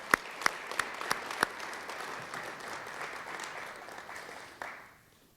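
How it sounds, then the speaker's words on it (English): An audience claps through the applause after an introduction of the Louisville mayor and a congressman at a civic launch event. A few sharp early claps lead into a steady wash of clapping that fades out near the end. "Let's give them all a round of applause for being a part."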